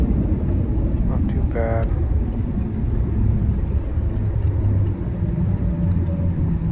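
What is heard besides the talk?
airplane touching down and rolling on runway after landing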